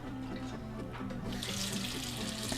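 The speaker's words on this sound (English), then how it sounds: "I need to put a little bit more water here" Water runs steadily from a kitchen tap into a sink while crepes are being made, a close, continuous rush that grows brighter and louder partway through, with no talking.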